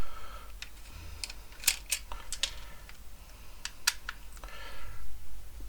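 Tight screws being worked out of an Xbox Series X controller with a small screwdriver, heard as a run of sharp, close clicks and ticks of metal on plastic with quieter rustling in between.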